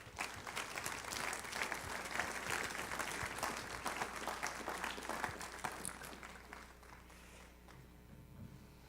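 A church congregation claps together in a sustained, dense wave of applause at a moderate distance, then it thins out and fades toward quiet over the last couple of seconds.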